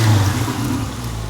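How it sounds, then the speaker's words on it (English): A Ford Escort car approaches with a steady, low engine rumble and a slight rising rev, moderately loud and continuous with no talking. "We can hear a car approaching."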